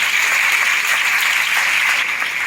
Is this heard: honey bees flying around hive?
no